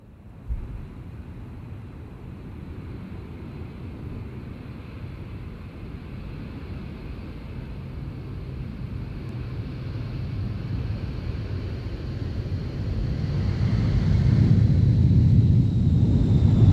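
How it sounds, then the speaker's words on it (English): A Boeing RC-135U reconnaissance jet at the 1994 Mildenhall Air Fete gives a broad engine roar that builds steadily, growing louder and fuller toward the end as it closes in. "Air Fete 94 saw an extremely rare appearance by an RC-135U."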